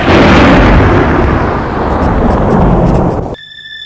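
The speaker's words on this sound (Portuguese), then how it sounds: "do céu claro, ouviram o som de um trovão" A thunder clap from a clear sky, loud and broadband, rumbling heavily for about three seconds before cutting off abruptly, with no talk over it.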